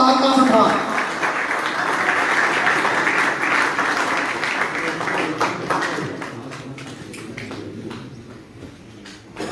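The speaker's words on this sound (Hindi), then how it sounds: "भरपूर तालियों में" Audience applause at a pigeon club prize ceremony, a dense sustained clapping from a gathered crowd that holds steady and slowly fades toward the end.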